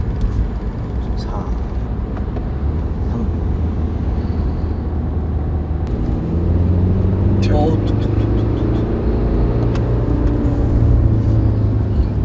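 A BMW 520d with all-wheel drive accelerates in third gear using manual shift mode, a steady low engine drone that rises in pitch and grows slightly louder partway through, with people talking over it inside the cabin.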